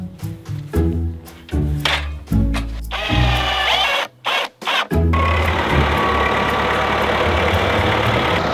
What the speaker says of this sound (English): Drill. Camera, last thing.